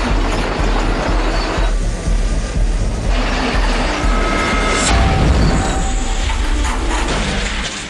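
A model train runs on a test track with steady loud rumbling and rattling, a continuous mechanical roar with faint clattering and a few high squeaks, no talk.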